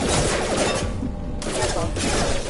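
Rapid bursts of gunfire in the Mass Effect 2 Legendary Edition video game, loud and dense under mixed battle effects, briefly thinning for a moment before resuming, with some speech mixed in.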